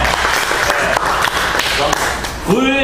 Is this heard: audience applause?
yes